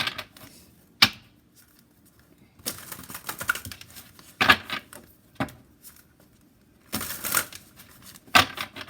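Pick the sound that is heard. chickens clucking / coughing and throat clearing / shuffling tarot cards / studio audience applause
shuffling tarot cards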